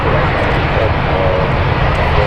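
A Turkish Airlines Boeing Dreamliner jet roars loudly and steadily at Manchester Airport, a broad continuous engine rush with no break.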